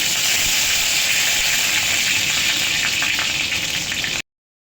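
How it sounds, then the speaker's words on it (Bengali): Bay leaves drop into hot oil and crackle in a loud, steady sizzle close up, holding evenly for about four seconds before cutting off abruptly to silence. "তো এখন আমি তেজপাতা সেগুলোটা দিয়ে দিচ্ছি"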